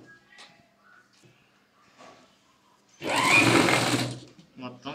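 A sewing machine stitches a blouse neck piece in one loud, steady whirring burst of about a second, with a brief restart just after. Quieter handling noises and speech come before it.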